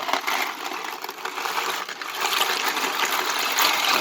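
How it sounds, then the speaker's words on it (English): Dry Creamette mostaccioli pasta pours into a pot of boiling water, giving a continuous loud rattling, hissing rush for several seconds with no talk. "the water is boiling in the pan, in the pot, and so I'm going to pour in the creamette mastacholi"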